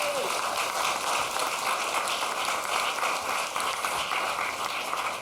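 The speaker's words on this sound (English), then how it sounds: "please give him an applause as well" Sustained applause from a festival panel audience, steady dense clapping throughout at an even level with no speech over it.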